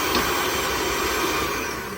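An electric mixer whips cake batter with a continuous close whirring hum that holds steady and eases slightly near the end.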